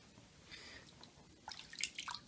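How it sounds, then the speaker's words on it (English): A Streamlight Stylus Pro penlight drops into water, giving a faint splash followed by a few small, crisp drips and plinks close by in an otherwise quiet setting. "So we'll drop it in the water,"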